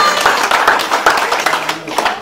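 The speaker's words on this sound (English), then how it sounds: "let's clap for the Lord." A church congregation claps together at a memorial service, a dense, steady patter of many hands close by that fills the whole moment.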